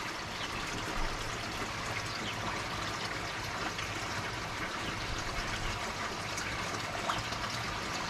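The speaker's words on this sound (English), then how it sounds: "And I've got my trickling back on." Water trickles steadily into a koi pond, a soft continuous splashing and gurgling that stays even throughout with no voices over it.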